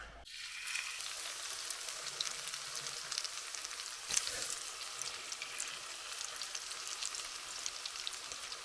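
A steady, bright sizzle of meat patties frying in a hot pan over a camping gas stove continues throughout, with a crackle near the middle and occasional small pops.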